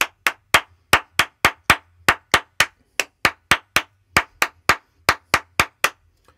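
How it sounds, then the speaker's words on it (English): Sharp hand claps in a steady rhythmic pattern, about three per second in short grouped runs with brief gaps, close and loud with nothing else beneath. "you will hear just the three and the four claps together"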